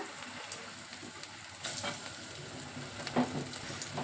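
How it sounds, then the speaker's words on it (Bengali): Flattened lentil fritters sizzle steadily in hot oil, a continuous close frying hiss with a few brief crackles and no voices. "দেখুন তেলটা গরম হয়ে গেছে। এবার আমি এরকম চ্যাপটা চ্যাপটা করে বড়াগুলো দিয়ে দিচ্ছি।"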